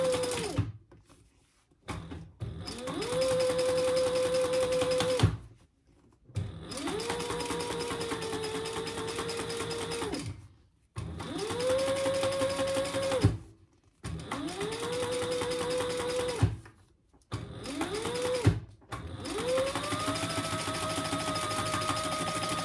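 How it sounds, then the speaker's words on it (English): A sewing machine top stitches a seam on a handbag, running in several steady bursts of a few seconds each, separated by short pauses, close and clear with no talking. "we're just going to top stitch that"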